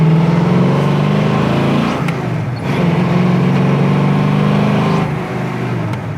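The 400 engine of a 1968 Pontiac Firebird revs loudly and close by, with a deep rumble that swells and eases in several surges and no voices over it.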